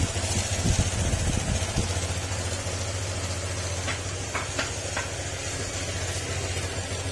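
A Honda scooter, an ADV160 or Click125, idles after an oil change with a steady low mechanical drone and a faint ticking rattle, close and continuous, with a few brief clicks partway through.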